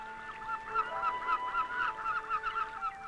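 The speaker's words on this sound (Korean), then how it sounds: "바위섬 정상에는 갈매기가 앉아있고" Gulls calling from the summit of Dokdo, a rocky sea island, a steady run of short harsh cries repeating at a moderate distance with a continuous background hiss.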